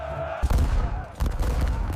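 Two sharp bursts of gunfire crack out in quick succession over a low background rumble.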